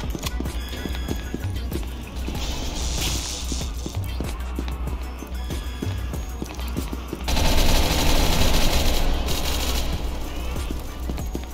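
Video game gunfire rattles in dense bursts through the whole stretch, a busy mix of rapid shots and action noise that swells louder near the end, with speech mixed in.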